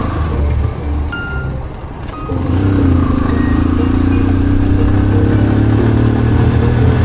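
A motorcycle rides steadily along a scenic road through tea fields in Sri Lanka, its engine droning continuously and close, growing louder and fuller after the first couple of seconds.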